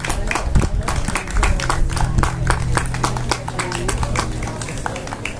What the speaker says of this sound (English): A good clap.